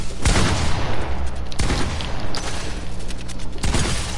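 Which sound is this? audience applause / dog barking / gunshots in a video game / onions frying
gunshots in a video game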